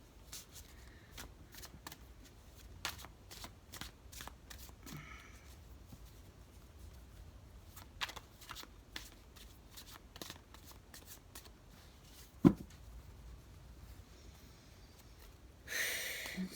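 A deck of tarot cards is shuffled in repeated short riffles, each a crisp flutter of cards, fairly close and soft, with quiet pauses and a few handling taps between them.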